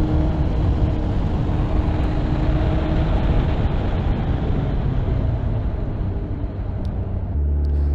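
A 2021 Suzuki Hayabusa motorcycle cruises in sixth gear at about 1,900 RPM, its engine a loud, steady low drone blended with wind rush, holding evenly throughout.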